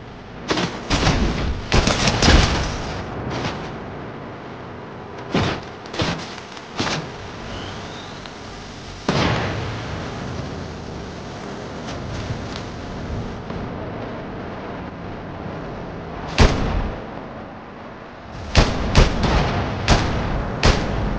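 Sniper rifle shots in Fortnite ring out as sharp, loud, separate bursts with quiet gaps between them, a few close together early and more near the end.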